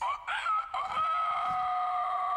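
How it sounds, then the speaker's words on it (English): A cartoon rooster crows loudly and close, one drawn-out cock-a-doodle-doo with a rising start and a long sustained final note, heard alone without speech. "that rooster's been crowing all morning"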